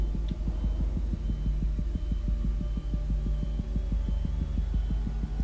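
A steady, loud heartbeat throbs through a horror video game, its regular double pulses repeating rapidly and evenly over a low hum, with no voices.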